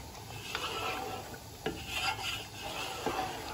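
Spoon stirring oil and ground spices through a drying cauliflower and meat curry (gobi gosht) in a pan, a steady scraping and rubbing with a few sharper scrapes, close and alone with no talk.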